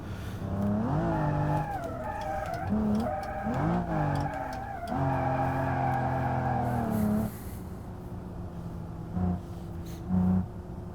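A BMW E92 drift car in a video game, engine revving hard with rising and falling pitch and tire squeal through sustained slides, loud and close, then easing off into quieter throttle blips.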